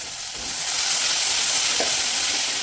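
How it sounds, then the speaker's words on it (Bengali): Washed rice fries with cardamom and cinnamon in hot oil in a pan, a close, continuous sizzle and hiss that swells slightly as it is stirred. "এবার চালটাকে ভালো মতো ভেজে নিতে হবে"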